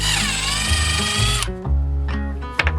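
A power driver with a T25 bit backs screws out of a STIHL FS110 trimmer housing, a loud close whirring spin that stops abruptly, followed by short bursts and a small click, with no voices.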